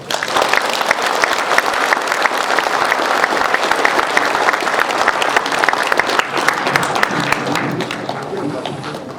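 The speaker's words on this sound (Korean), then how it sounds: "다시 한번 뜨거운 박수를 부탁드립니다" A lecture audience breaks into sustained applause, a dense and fairly loud patter of many hands that runs for several seconds and then gradually thins out, with some voices mixed in.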